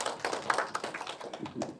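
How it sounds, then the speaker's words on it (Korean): Scattered clapping from a small audience at a carbon-neutrality forum in Nowon, a brief burst of uneven hand claps at moderate volume. "큰 박수 한번 쳐드리겠습니다"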